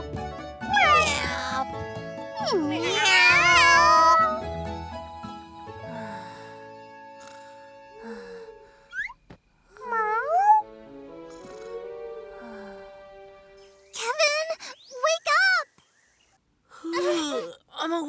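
In a Robocar POLI kids' animation, a voice imitates a cat's meowing: a string of drawn-out, rising and falling mews in separate bursts with short gaps between them, close and fairly loud, with quieter spoken lines between.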